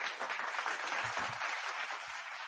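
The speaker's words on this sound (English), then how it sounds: "Round of applause one more time." Audience applause fills the room as a continuous, dense patter of many hands clapping at moderate loudness, steady throughout with no voices over it.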